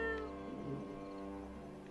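A pet cat meows nearby, its drawn-out calls standing out against a steady low background hum, with no talk heard.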